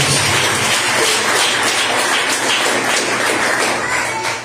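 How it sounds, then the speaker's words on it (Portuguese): A church congregation clapping in praise to Jesus during a worship service, continuous dense applause filling the space for several seconds, loud and steady before trailing off slightly. "Das palmas ao Senhor Jesus"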